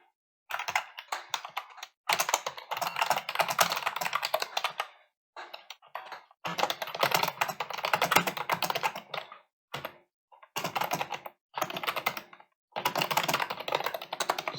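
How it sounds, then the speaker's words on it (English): Code comments being typed on a computer keyboard: quick bursts of clattering keystrokes, close and clear, broken by short pauses, with no talking. "Just type some nice comments here so I can remember later how all this works"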